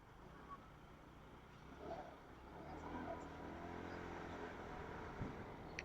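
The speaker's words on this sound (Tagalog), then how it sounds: "Talagang grabe yung traffic dito." Steady road traffic rumbles at night on the Guiguinto flyover and Plaridel Arterial Bypass Road, shared with trucks, a continuous low engine drone with vehicles swelling past, under faint talk.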